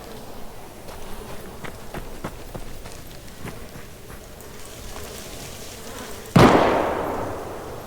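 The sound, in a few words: gunshots firing nearby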